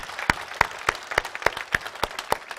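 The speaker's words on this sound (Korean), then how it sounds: "다시 한번 우리 영광이 하나님께 박수 한번 올려드리겠습니다" At a Christmas Sunday church service, a congregation gives a round of applause to God after the choir's singing: sparse, fairly faint rhythmic clapping with distinct individual claps at a roughly even pace, heard at a distance.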